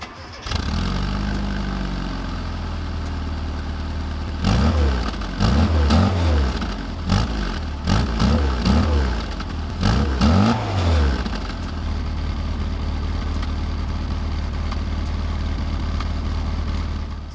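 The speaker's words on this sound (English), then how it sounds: "I love that old school rumble and pop of the old exhaust note" A classic Japanese-market Mini starts up and its old exhaust rumbles nearby, with a run of throttle blips and pops in the middle before it settles back to a steady low idle.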